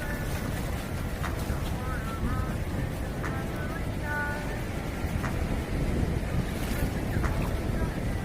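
Ocean waves wash against the shore in a steady, broad roar with wind buffeting the microphone, while a few faint boat or bird-like tones flicker above the surf.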